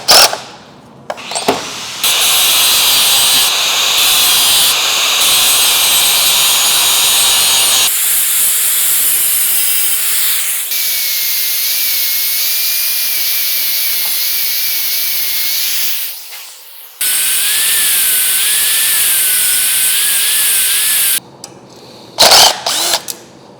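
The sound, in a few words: grinder grinding motorcycle exhaust pipe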